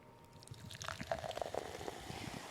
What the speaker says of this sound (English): So here's you a nice little ASMR of a drink in a glass.